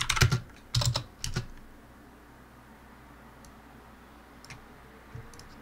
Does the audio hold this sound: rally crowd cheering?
no